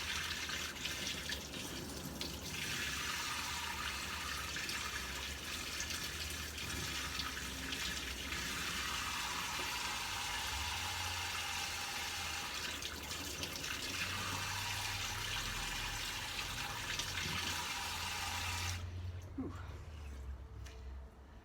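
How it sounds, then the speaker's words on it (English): Water runs steadily from a tap over a potted orchid for about twenty seconds, a close continuous splashing rinse that stops abruptly near the end. "I'm going to give this one a nice little rinse."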